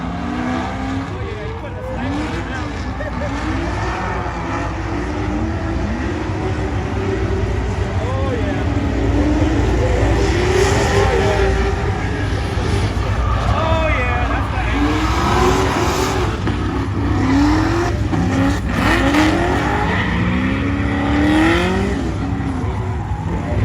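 Drag race car making a pass on a drag strip with stickier front tires needed, engine roaring loudly and continuously with rising and falling revs, while a voice talks over much of it.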